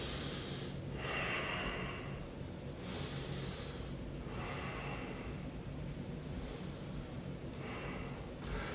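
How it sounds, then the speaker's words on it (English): Slow, steady yoga breathing held in warrior 2 pose: long, airy inhales and exhales repeating about every two seconds, close and fairly loud, with no talking. "We'll take a couple breaths here."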